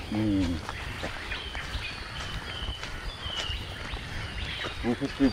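Assorted bird calls and chirps, including a drongo, ring out at a moderate distance in a dense forest at midday, with a person speaking briefly at the start and end.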